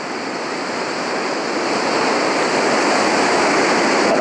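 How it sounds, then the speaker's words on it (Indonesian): High ocean waves crash and roar near a red bridge, a loud continuous wash of surf that builds slightly and fills the scene with no talking. "Dan ombaknya juga sangat tinggi sekali."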